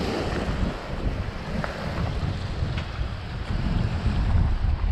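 Strong northern storm wind roars steadily across the microphone, with waves washing and lapping nearby; no voices, just continuous gusty rumble.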